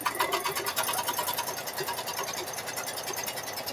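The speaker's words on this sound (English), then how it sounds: "So we're going to run that first placement stitch." An embroidery machine sews a placement stitch with rapid, evenly pulsing needle strokes. The sound is close and continuous, with no talking.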